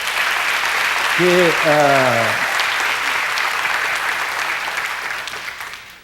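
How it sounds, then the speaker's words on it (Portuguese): A young audience applauds steadily in a hall during a talk, a broad wash of clapping lasting several seconds, with a brief spoken voice over it near the start before the clapping fades. "Tudo jovem aplaudiu, não é?"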